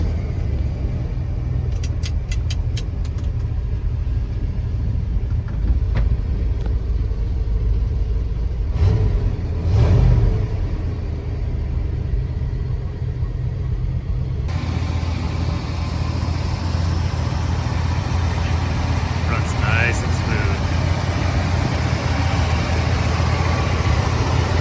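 A 1979 Ford F350 4x4 pickup idling steadily, a low continuous engine rumble close by with a brief rev in the middle, running alone without talk.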